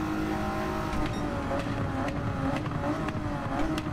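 A Toyota Alphard's engine revs hard in Gran Turismo 7, a steady high-pitched strain held near its limit, with small rises and dips as gears are held, loud and continuous with no voices.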